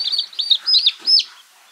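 Young chicken chicks and quails, kept together in one pen, give a quick run of high thin chirps and peeps in short overlapping bursts, close by and fairly loud, with no talk over them.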